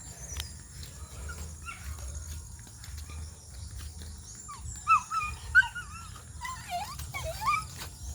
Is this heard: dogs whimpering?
yes